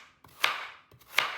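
Two separate knife chops through peeled carrots being cut coarsely on a board, each a crisp close thud with a short tail and a pause between, no talking.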